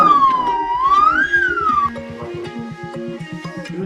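A toy police car siren wails in a rising and falling electronic tone, loud and close, as two toy vehicles, a police car and an ambulance, are crashed together in a play fight, with a rapid rhythmic pulsing beneath the siren.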